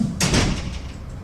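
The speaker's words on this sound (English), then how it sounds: "Close this door." A door is shut indoors with a single sharp, fairly loud thud that fades quickly, heard against steady background noise.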